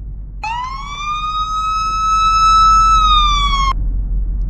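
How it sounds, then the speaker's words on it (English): A police car siren in a video game rises into a steady, loud, near wail that holds for about three seconds and then drops away, heard alone over a low engine rumble. "Turn off your siren."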